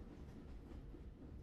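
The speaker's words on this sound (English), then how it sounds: "The train is moving fast." A train moves fast on rails at midnight, giving a steady low rumble with a faint rhythmic clatter throughout, continuous and fairly quiet, with no voices.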